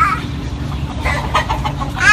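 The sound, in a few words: chicken clucking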